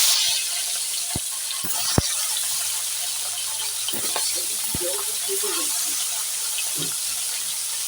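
River fish from the Ganges frying in oil in a pan: a steady, even hiss of sizzling fills the scene, with a few faint clicks and taps from the pan and utensils.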